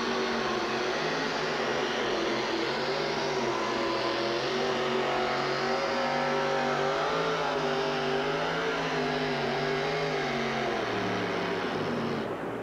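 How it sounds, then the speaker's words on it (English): Supercharged Budweiser Avenger monster truck at a 1989 USHRA wheel-standing shootout in Minneapolis, its engine roaring loud and continuous with rising and falling revs that hold for the whole stretch. "Gary just cannot get a hold of the track with all the horsepower for the Budweiser Avenger"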